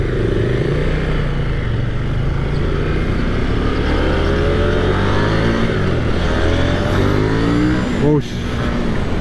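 A 2023 KTM 890 Duke R motorcycle accelerating hard, engine note climbing steadily through the revs up close with rushing wind, while a rider talks over it.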